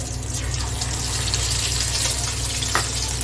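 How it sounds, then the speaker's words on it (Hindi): Mutton shami kababs deep fry in hot oil with a close, continuous bubbling sizzle and fine crackle. "इस तरह से डीप करते जाएंगे और इसे फ्राई करते जाएंगे।"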